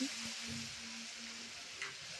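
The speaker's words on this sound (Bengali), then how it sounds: "এদিকে মাংস চেপে গেছে কড়াইতে পড়ছে রসুন বাটা" Meat frying in a wok with garlic paste, a soft steady sizzle close by with faint stirring, no voices.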